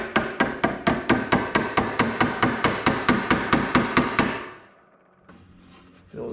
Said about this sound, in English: It's gonna have to be pounded in there.